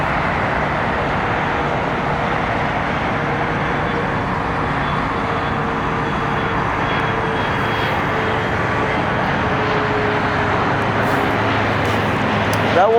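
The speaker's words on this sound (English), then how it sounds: "And then we got a CRJ 700ER up there." A CRJ 700ER regional jet at LAX gives a steady, broadband engine roar that holds at a constant level throughout, with a faint tonal whine over a low rumble.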